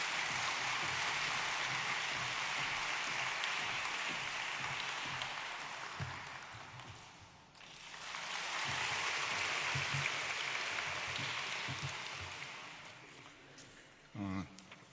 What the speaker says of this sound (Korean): 큰 박수로 하나님께 영광의 박수를 보내드리겠습니다